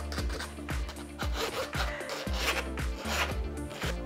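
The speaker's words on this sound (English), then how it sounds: "make sure you scrape it off the bottom" A spoon scrapes mashed potato flakes off the bottom of a cooking pot in quick repeated rasping strokes, close and fairly loud with a steady rhythm.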